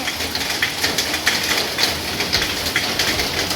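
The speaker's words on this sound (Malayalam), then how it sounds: "പെരും മഴ കേട്ടോ അതുകൊണ്ട് സൗണ്ട് ചിലപ്പോ കേൾക്കൂല കേട്ടോ നല്ല മഴയാണ്" Heavy rain pours steadily with a dense, constant hiss, drops drumming on surfaces close by, no voices.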